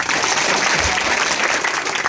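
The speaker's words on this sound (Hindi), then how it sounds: "जोरदार ताली से" Loud, dense applause from a crowd of villagers at a rural gram panchayat gathering fills the whole stretch, steady and close, with no break.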